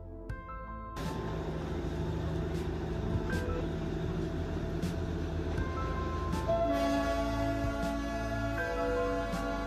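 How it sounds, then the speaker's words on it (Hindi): Darjeeling steam toy train on narrow 2-foot track, a constant rumbling run with rhythmic rail clatter and drawn-out whistle-like tones rising in the second half. "इतनी बड़ी ट्रेन इन 2 फीट की ट्रैक पे कैसे चल रही है"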